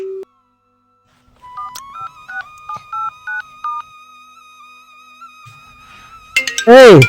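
A phone gives off electronic tones: a run of short, evenly spaced beeps over a steady held tone, fairly loud and close, then a brief burst of voice at the end.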